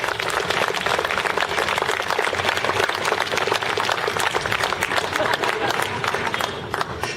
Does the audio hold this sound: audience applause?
yes